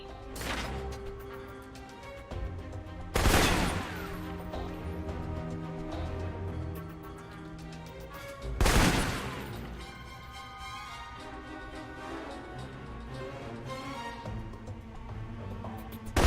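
Assault rifle fire in the video game Alpha Protocol, with two sharp, loud bursts standing out above a steady bed of game music and ambience, one near the start and a second about halfway through.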